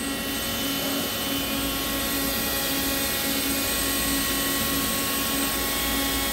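A Hardinge GT 27SP super-precision CNC gang tool lathe, not level and balanced, runs at 500 RPM, producing a loud, unbroken mechanical whir with steady tonal humming and whining layered over a broadband roar.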